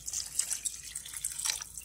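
Water poured into a cooking pot over dry beans, a faint, soft trickle and patter of drips throughout, with no voices.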